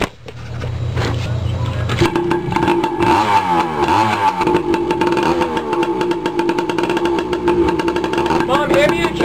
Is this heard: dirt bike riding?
yes